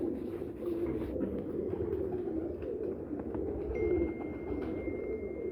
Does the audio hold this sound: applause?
no